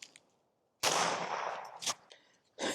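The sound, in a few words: suppressed .22 gunshot, Norma ammunition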